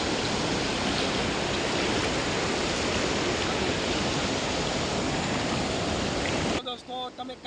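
A river that later joins the Mahisagar rushes steadily in a dense, loud, unbroken wash of flowing water, which cuts off near the end into quieter background sound.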